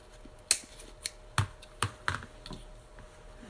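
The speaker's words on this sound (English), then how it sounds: "Just going to cut this off right here." Scissors snipping through string or thread while making decorative book stacks, a few sharp, close clicks spaced irregularly in a quiet room.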